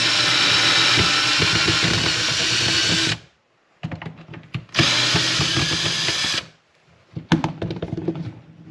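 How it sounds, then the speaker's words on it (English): A power drill backs out the headlight bolts on a 2016 Yamaha WR250R motorcycle, two loud sustained whirring bursts separated by pauses filled with clicks and rattling of parts. "You're just gonna unscrew these two bolts."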